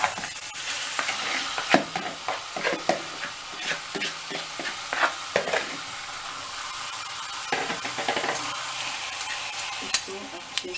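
Mashed potato is stirred into a sizzling stuffed-capsicum filling in a pan, with continual scraping and knocking of the spoon against the pan over a steady frying hiss and no clear talk.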